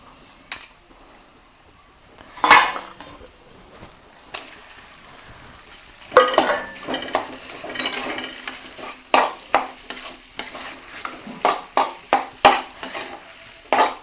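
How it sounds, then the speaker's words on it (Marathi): Sabudana (sago pearls) sizzling in hot oil in a kadhai for fasting khichdi, with a ladle scraping and stirring in quick repeated strokes; close and fairly loud, bursts of clatter over a steady fry. "आता हे तेलात टाकून घेतलंय आपण शाबूत तांदूळ. आता ह्याला एकदम व्यवस्थित असं मिक्स करून घ्यायचंय"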